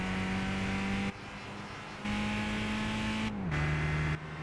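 A race car engine drones steadily in Gran Turismo 5, holding a constant pitch with brief drops as the throttle lifts, then pulls back on again with a slightly lower tone.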